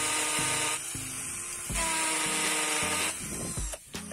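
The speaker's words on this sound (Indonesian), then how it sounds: "untuk tes pengeboran di beton ini juga cukup oke" A Ryu RCI20V cordless impact drill bores into concrete with a loud, close, gritty whir and a throbbing low hammer pulse, stopping briefly and restarting several times with no talk.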